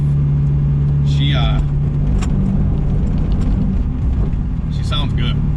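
A turbocharged Mazda Miata running 10 psi of boost rumbles loudly and continuously from up close as the engine pulls, with a few short higher-pitched bursts on top.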